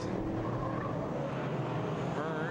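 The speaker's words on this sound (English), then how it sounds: "here we see Hearn on the inside, the red and white Budweiser car" Modified stock cars racing at Can-Am Speedway, a steady loud drone of several engines roaring together with tonal whine sweeping in pitch, continuous throughout without speech.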